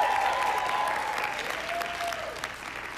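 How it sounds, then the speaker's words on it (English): Round of applause from a festival audience, steady clapping filling the whole stretch at moderate level, with a faint tonal hum running beneath it. "Can we please give a round of applause for her?"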